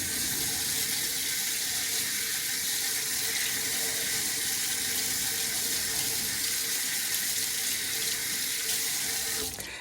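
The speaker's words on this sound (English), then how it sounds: "I'll wash this out right here." A kitchen tap runs steadily into a sink while a utensil is rinsed, making a continuous close hiss and splash that stays at a constant level throughout, with no talking.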